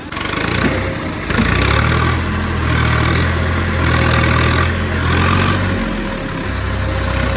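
A new Swaraj tractor's diesel engine chugs steadily at idle, a low rumbling throb that swells and eases in uneven surges, close by with no talking.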